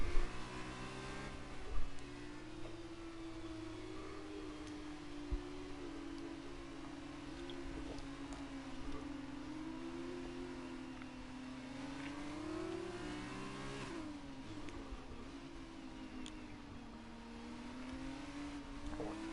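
A Formula 2 race car engine on the formation lap, a sustained mid-pitched drone rising and falling gently as it revs, steady and fairly distant with no talking.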